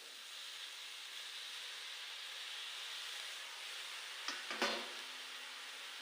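Mixed vegetables drop into chillies frying in oil in a pan, a steady close sizzling hiss broken near the end by a short, louder crackling burst as they hit the hot oil.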